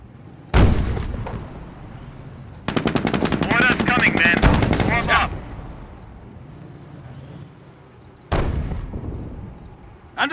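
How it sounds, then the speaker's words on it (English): Company of Heroes battle in the Falaise Pocket mission: a loud single blast, then a long burst of rapid machine-gun fire layered with artillery booms, a quieter lull, and another heavy explosion near the end, up close and dominant. "Base is under enemy fire."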